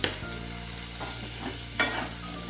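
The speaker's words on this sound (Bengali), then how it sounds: "হলুদ আর নুন দিয়ে আবার একটু নেড়ে নিচ্ছি" Vegetables stirred in a pan with turmeric and salt for a drumstick and poppy-seed dish: low sizzle under spatula scrapes and knocks, with a sharp clang near the end.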